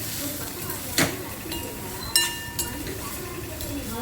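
Ridge gourd peel fries with salt in a pan, a soft steady sizzle broken by a few sharp spatula clinks while stirring, with a voice speaking quietly.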